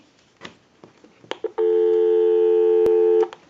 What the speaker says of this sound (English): So we'll go ahead and give you some dial tone